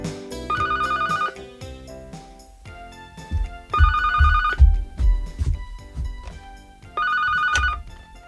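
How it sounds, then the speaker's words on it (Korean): A telephone rings in three repeated bursts with pauses between, loud and close, with some rustling and thumping movement sounds in the gaps. "그때 전화벨이 울립니다."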